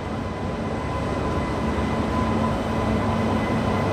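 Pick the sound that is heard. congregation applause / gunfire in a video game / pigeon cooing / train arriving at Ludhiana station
train arriving at Ludhiana station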